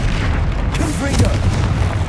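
A Confringo blasting spell erupts in Hogwarts Legacy during a troll fight, a loud, sustained booming explosion with heavy low rumble and crackling bursts filling the whole moment.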